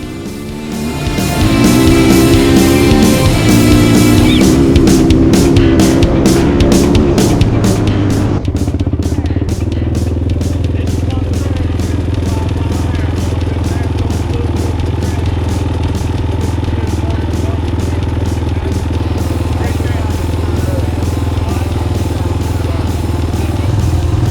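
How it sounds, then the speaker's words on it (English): A 2001 Honda 400EX ATV rides along a sandy trail, its engine revving hard with a rising, pitch-shifting roar at first, then settling into a steady, loud drone with rattling and clatter from the ride. "test out his 2001 new to him Honda 400EX"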